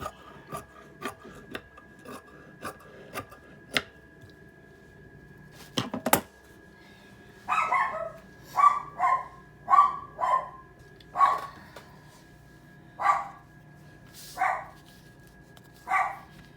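A dog named Hot Dog barks repeatedly at a mailman outside, a string of evenly spaced moderate barks after earlier rasping, scraping sounds from filing close by.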